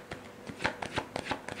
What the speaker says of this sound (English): putting it back in the deck, like, and continue shuffling